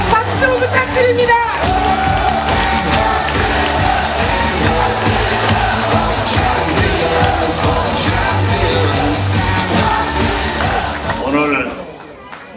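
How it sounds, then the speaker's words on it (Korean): A packed party convention hall erupts in loud cheering, whoops and applause at a Democratic United Party leadership election rally in Ulsan, the roar sustained for several seconds with voices mixed in before fading out at the end. "뜨거운 함성 박수 부탁드립니다"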